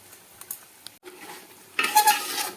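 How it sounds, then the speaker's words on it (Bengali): Milk mixed with powdered milk is stirred into mutton biryani masala in a pot, heard as a few soft scrapes and clicks of a spoon followed by a louder, wet stirring and bubbling sizzle toward the end. "দুধটাকে দিয়ে ভালোভাবে মিশিয়ে দিচ্ছি"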